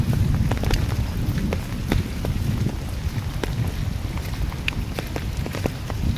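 Heavy cyclone rain from Montha pours steadily and loudly, a dense continuous wash with scattered sharp drop impacts throughout and no voices.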